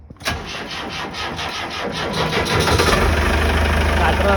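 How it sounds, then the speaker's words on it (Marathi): A boat engine is started with a starter, catching with a sharp burst and then settling into a loud, steady mid-pitched running rumble close by, with a voice talking over it. "आपण आपली बोट काढले बाहेर आणि दादा स्टार्टर म्हणतो बघा"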